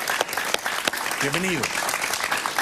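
Studio audience applause on a Spanish-language evening talk show, a dense, steady wash of clapping throughout, with a voice briefly speaking over it.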